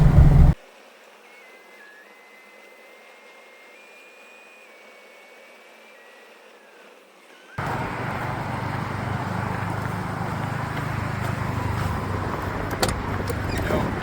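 A 1991 Mazda RX-7 drives on a freeway: after a short burst and a quiet interior stretch with faint whine, a steady loud road and engine roar rises and continues to the end.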